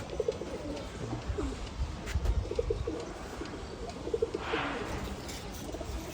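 Sick pigeons coo softly in low, repeated rolling calls, several birds close by over a steady background hiss, with a faint flutter or shuffle now and then.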